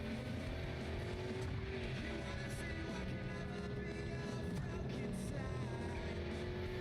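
A car in a racing video game drives in stop-and-go traffic, its engine whining in a steady drone that shifts pitch as it speeds and slows, with no talking.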